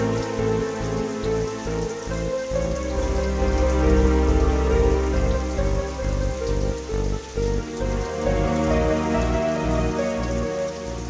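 Steady rain hisses continuously for several seconds, blended with sustained tonal music beneath it; no one speaks.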